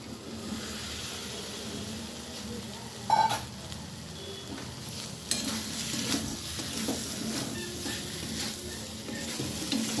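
Fried potatoes are tipped into a spiced masala for a potato curry and stirred, with a steady frying sizzle under intermittent spatula scrapes and a couple of louder knocks against the pan.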